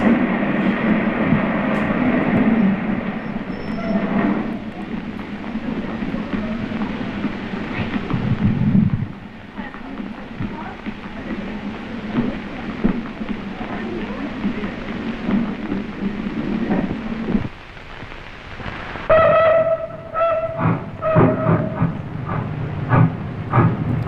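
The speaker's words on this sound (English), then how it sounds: "Damn, look at that old train, man." An old steam train rumbles past in a 1943 film, a loud, rough, continuous roar with hissing and clattering that breaks off briefly before a shrill whistle-like burst near the end.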